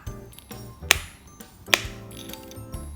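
Two sharp, bright pops from a pop-it fidget spinner toy ring out about a second apart over a faint low background, crisp snapping clicks like pressed silicone bubbles.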